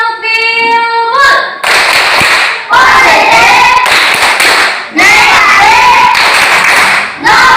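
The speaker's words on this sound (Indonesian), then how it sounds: "Mari tepuk bilbul." A classroom of students performs the rhythmic 'tepuk bilbul' clap routine, bursts of unison hand claps broken by short pauses, with children's voices chanting between the clapping.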